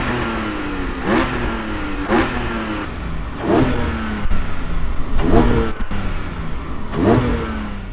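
A Porsche 718 Spyder engine revving hard while driving, with repeated rising sweeps as it climbs through the gears in several loud, close bursts, with no talking.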